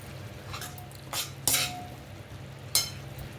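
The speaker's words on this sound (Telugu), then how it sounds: "ఈ మసాలా అంతా కొద్దిగా వేగనివ్వాలండి." Masala paste of garlic, coriander, cumin, poppy seeds and onion frying in a pan, a soft low sizzle broken by a few sharp spoon scrapes and clinks against the pan, close and alone.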